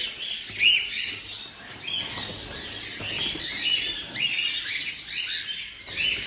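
Harvest-time birds chirp and tweet steadily in a close, busy chorus of overlapping calls, with faint wing flutters and no talk.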